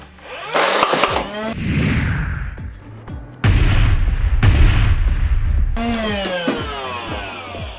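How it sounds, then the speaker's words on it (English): A motorized Nerf Rival Nemesis MXVII-10K blaster fires in loud, close bursts, its flywheels whirring and rising between the shots. "let's go ahead and do a slow motion test and see how this thing looks like as it's being fired"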